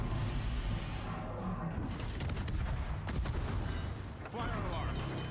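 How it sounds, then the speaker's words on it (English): Guns of the Soviet cruiser Smolensk fire in World of Warships, a busy run of sharp shot cracks over steady rumbling battle noise, with a burst of rapid reports near the middle. "the Smolensk is shooting at you again"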